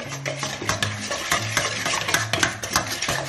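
Creamy tofu sisig being stirred and mixed in a pan, busy clattering scrapes and taps of a utensil over a soft sizzle, close and fairly loud with no voices.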